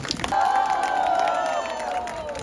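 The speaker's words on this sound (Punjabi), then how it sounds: "ਤਾੜੀ ਲਾ ਦਿਓ ਜੀ ਸੁਖੀ ਆਂਟੀ ਪਲੀਜ਼ ਸਾਰੇ ਤਾੜੀ" A crowd at a golgappa-eating competition in New Zealand claps and cheers loudly, with whoops and raised voices swelling over the applause for a couple of seconds before easing slightly.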